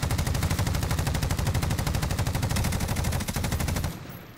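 Sustained automatic gunfire from Call of Duty: Warzone, a loud rapid rattle of shots in an unbroken stream for about four seconds before it cuts off abruptly.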